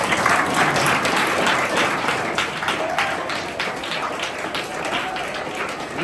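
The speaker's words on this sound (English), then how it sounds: "Clap." Children clap together at a school gardening session, a dense and steady burst of applause that fills the room at close range and holds its level throughout, with a few voices mixed faintly underneath.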